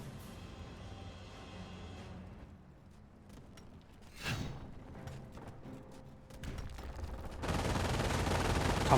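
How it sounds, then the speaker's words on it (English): An MG bunker's machine gun fires in Company of Heroes, with scattered rapid bursts over a low battlefield rumble that build into dense, loud, sustained fire at the end. "MG bunker suppressing down that rifleman"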